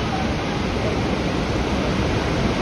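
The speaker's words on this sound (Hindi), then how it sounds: "ये रहा वाटरफॉल।" A waterfall near Dumar village in Munsiyari, Uttarakhand, pours with a loud, dense, continuous roar of rushing water, close by and steady throughout.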